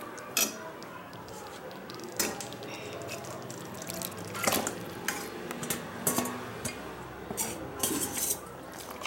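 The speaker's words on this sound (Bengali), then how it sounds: "এবার আমি এর মধ্যে ঢেলে দিচ্ছি মাংসটা।" Chicken pieces tipped into a pan of spice paste, several soft thuds and clanks of metal bowl and spoon against the pan over a quiet background, close by, with a brief voice.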